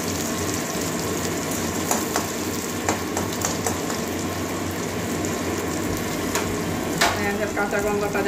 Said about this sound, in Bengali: পেঁয়াজের কাঁচা গন্ধটা যাওয়া পর্যন্ত ভাজবো।